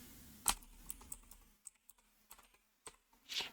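Sparse keystrokes on a computer keyboard while typing a search, a few sharp clicks spaced irregularly, then a louder burst near the end, close and otherwise quiet.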